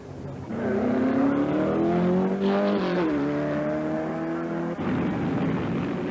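Vintage race cars roar around the steeply banked Daytona speedway, engines droning loudly with rising and falling pitch as they pass, a dense sustained wail of multiple motors.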